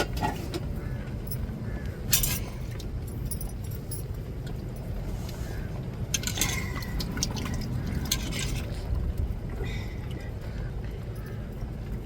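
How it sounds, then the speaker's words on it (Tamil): Tamarind broth with garlic and fish simmering in a covered pot, a steady low bubbling and dripping texture that runs throughout, with faint clinks now and then. "இப்போ புளி நல்லா கொதிச்சுட்டு பாருங்கள்"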